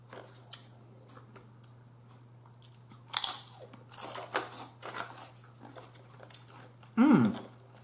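Close crunching bites of tortilla chips with dip during a Mexican restaurant meal, a few scattered crisp crunches building to one loud bite near the end, alone without talk.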